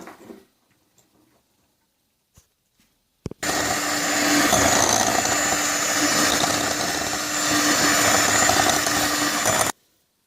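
After a few faint clicks, an electric mixer starts whipping butter with sour cream and hums steadily and loudly for about six seconds, then cuts off.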